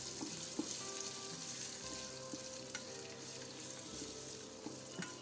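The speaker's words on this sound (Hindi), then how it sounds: "अब इसको बिल्कुल धीमी आंच में रख के हमें सौते करना है।" Finely chopped shallots sauté in a pan over very low heat for South Indian kadhi, giving a soft, steady sizzle and frying crackle throughout, quiet and close with a few light clinks.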